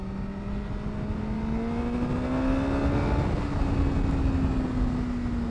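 A BMW S 1000 R naked motorcycle accelerates at quarter throttle, its engine note climbing smoothly and steadily, loud and close with wind rush behind it.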